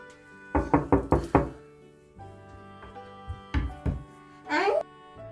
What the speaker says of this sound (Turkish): Şey kapıyı tıkla bakayım.